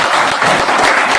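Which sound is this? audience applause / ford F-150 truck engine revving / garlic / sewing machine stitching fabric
audience applause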